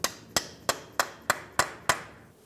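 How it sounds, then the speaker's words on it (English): Seven sharp metal hammer-on-punch strikes at a steady rhythm, driving the CV axle out of the front wheel bearing on a 2010-2013 Ford Transit Connect, loud and close with no talk. "Use a hammer and punch, come right in the center of that axle and drive it out of the wheel bearing."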